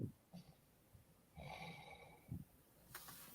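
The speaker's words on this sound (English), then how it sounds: "This fool is snoring." A man asleep snores softly, with faint rhythmic snorting breaths spaced a second or so apart at low volume.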